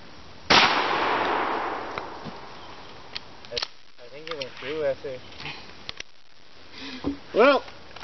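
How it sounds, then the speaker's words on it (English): Shotgun firing birdshot into a thick rubber floor mat: a single sharp, loud blast with a fading tail, followed by quieter talk and small clatters. "shotgun versus thick rubber floor mat"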